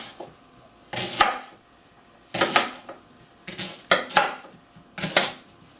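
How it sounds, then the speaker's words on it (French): A large knife chops washed leeks into 3 cm pieces on a cutting board, five or six crisp, separate thuds spaced about a second apart, close and clear with no talking. "On prend un grand couteau et on coupe des tronçons de 3 cm."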